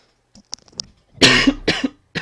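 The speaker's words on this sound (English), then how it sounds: "I've still got a really tickly cough." Two harsh, loud coughs from a person with a tickly cough, close to the microphone, the second shorter than the first, preceded by faint clicks and small throat sounds.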